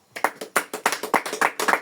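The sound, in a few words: congregation clapping hands in praise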